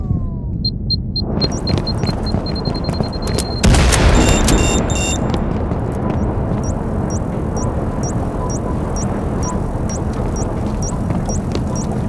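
Grenade blast in an online squad shooter match, a single loud burst about a third of the way in, standing out over a steady bed of game noise with small repeating ticks and beeps.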